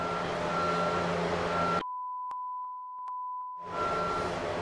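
An alarm emits a steady, clear tone, alone in near silence, with a couple of faint clicks, between stretches of loud broadband background noise.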